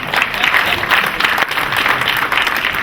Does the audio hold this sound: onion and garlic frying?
no